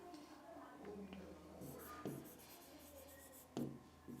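Pen scratching across paper in short strokes, fairly close and quiet, with a couple of sharper taps and page rustles between the strokes.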